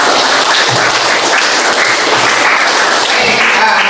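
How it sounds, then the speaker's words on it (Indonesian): Classroom applause from a group of students, steady dense clapping held at an even level throughout. "Terima kasih, tepuk tangan."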